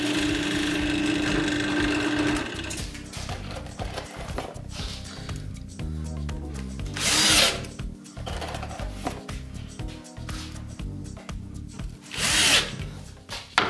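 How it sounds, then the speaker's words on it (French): Power drill boring screw holes through wooden boards for a scrap-wood bin, a steady loud motor whine throughout with brief pitch shifts and two sharp surges where the bit bites in. "je perce pour visser le tout afin que l'ensemble soit plus solide"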